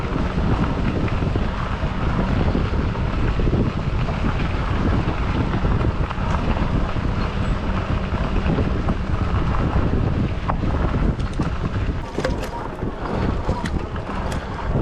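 Steady, loud wind roars and buffets the microphone throughout on a forest track in light rain, a continuous broadband rush with faint water sounds beneath.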